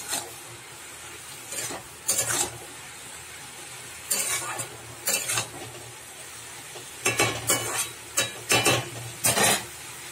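Bottle gourd and prawn curry being stirred in a pan with salt and turmeric, heard as several separate bursts of scraping and clinking with a soft sizzle beneath, close and fairly loud, with quieter gaps between the strokes.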